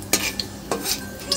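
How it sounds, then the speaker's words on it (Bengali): Nigella seeds and a dried red chilli frying in hot oil in a pan for a Bengali vegetarian dish, with a soft steady sizzle broken by a few light clinks of a spatula against the pan. "একটু হালকা ভাজা হয়ে যায়,"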